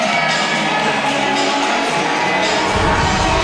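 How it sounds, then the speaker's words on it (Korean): A basketball arena crowd cheers loudly as cheerleaders appear, a dense, continuous roar of voices and shouts filling the hall. "농구가 진행될 때보다 환호성이 큰 이유는 치어리더가 등장했기 때문이다"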